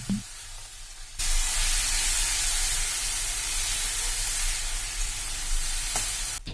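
Chicken, capsicum and boiled noodles tossed in a hot pan, a steady loud sizzle with scraping stirring that starts abruptly after a quiet moment and runs on continuously.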